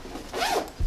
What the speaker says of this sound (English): And it zips closed